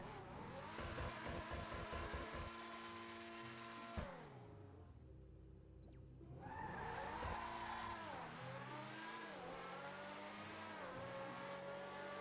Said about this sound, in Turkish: Araba baya güzel gidiyor arkadaşlar.